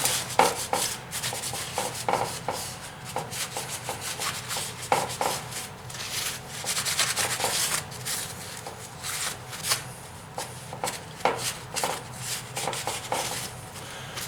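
Steady, close rubbing and scratching of 3000 grit sandpaper on a surface during repair of a 1972 Hahn-Eclipse Snow Giant snow blower with a Tecumseh H60 6HP engine, with uneven back-and-forth strokes running throughout.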